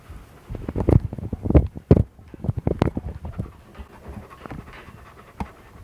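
A guard dog pants heavily and rhythmically close to the microphone, quick breathy huffs repeating for several seconds before easing into softer, sparser breaths.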